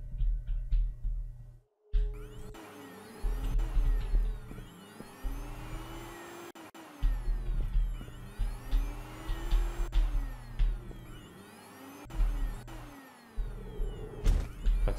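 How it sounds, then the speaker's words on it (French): A small handheld vacuum cleaner runs in the video game BABBDI, giving a steady motor whir with rising and falling sweeps in pitch, which breaks off briefly a few times and then starts up again. "Pratique hein, ce petit aspirateur"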